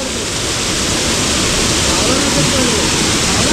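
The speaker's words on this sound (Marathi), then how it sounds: "चालू आहे पाऊस" Steady, dense hiss of monsoon rain falling in the Konkan near Sangameshwar, loud and continuous throughout with no clear individual drops and no talk.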